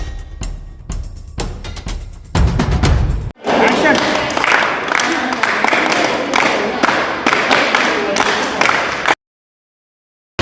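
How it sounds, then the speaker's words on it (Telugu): Hand claps ring out at the entrance of Golconda fort, a handful of sharp single claps followed by a longer stretch of echoing clapping and crowd noise under loud nearby talk. "ఈ క్లాప్ సౌండ్ వింటున్నారు కదా"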